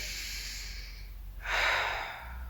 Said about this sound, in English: We're gonna have just one more big breath here.